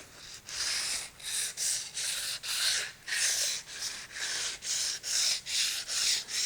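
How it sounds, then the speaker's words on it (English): Sandpaper rubs back and forth over a first polyurethane coat on wood, a light scuffing pass in steady rhythmic strokes, about a dozen soft rasping swipes heard close and alone. "So we're going to give it a sanding, just a light sanding."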